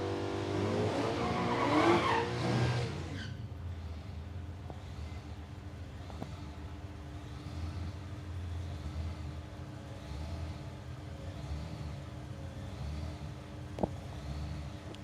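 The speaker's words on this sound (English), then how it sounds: "The Golf spun the tyres there on the lead." Drag racing at Palmyra Raceway, Australia: a Golf spins its tyres at launch with a loud screech and engine roar for about three seconds, then a steady, more distant engine drone fills the rest.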